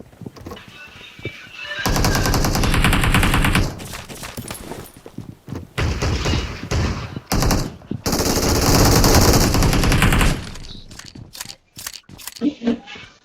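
Automatic gunfire from a PUBG match on the Livik map: loud, rapid bursts of shots separated by short pauses, with scattered single shots and brief quieter gaps near the end.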